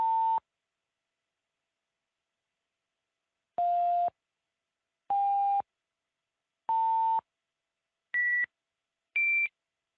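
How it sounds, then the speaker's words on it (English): Analog phone line path verification tones pass between two ends of a simulated call: six clean, separate beeps, the first alone, then five more in steady succession at shifting pitches, with silence in between. "we're going to do a path verification, which sends a sequence of tones between the two sides"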